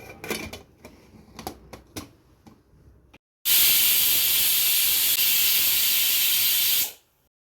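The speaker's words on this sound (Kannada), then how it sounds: "ಮುಚ್ಚಳ ಮುಚ್ಚಿ 2 ವಿಸಿಲ್ ಕೂಗ್ಸೋಣ" Pressure cooker with jackfruit sambar inside gives one loud, steady steam whistle lasting about three and a half seconds, close by, after a stretch of quieter kitchen clatter.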